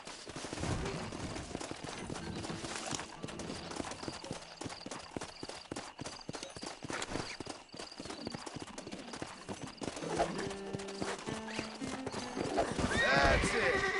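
A wild horse in the Red Dead Redemption video game, with rapid clip-clopping hooves throughout, sharp stomps and repeated neighing and whinnying, loud and close, mixed with game sounds and occasional voices.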